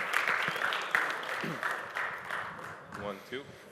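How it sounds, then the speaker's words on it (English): An audience applauds to welcome panelists at an EIP 7702 programmable wallet panel, a steady wash of clapping across the room lasting several seconds, with talking and voices mixed in underneath. "Round of applause here."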